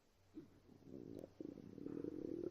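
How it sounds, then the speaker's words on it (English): Stomach growling, a soft low gurgling rumble that rises in a few uneven bursts and grows louder toward the end, close and quiet. "Suddenly my stomach growled."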